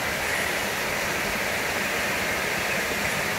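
Steady, loud broadband rush of a waterfall on Seongchisan mountain in Geumsan, one of a chain of twelve falls fed from Seongbong peak, continuous and unbroken with no voices.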